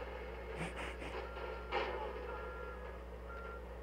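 Truck reversing beeper in the game Crackdown 2, a few evenly spaced high beeps over a steady low engine hum, fairly close and alone with no talk.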